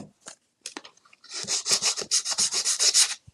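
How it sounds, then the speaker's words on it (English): Sanding a wooden sign by hand, a few short scrapes followed by a steady run of rhythmic back-and-forth rasping strokes, loud and close. "And just sand it."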